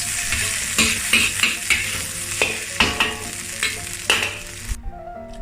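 Indonesian fried rice, nasi goreng kampung with fried anchovies, stir-fried in a pan over high heat: a steady loud sizzle with repeated scraping stir strokes, ending abruptly.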